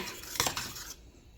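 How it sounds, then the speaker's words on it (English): A metal spoon scrapes and clinks against a pot while stirring boiling sugar-free strawberry jam, a short close burst of stirring that fades into quiet bubbling. "So it's boiling, I stir it."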